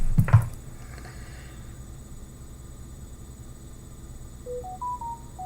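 A YouTube live stream notification chime, a short rising sequence of a few electronic tones near the end, faint over a steady room hiss after a brief bump at the start.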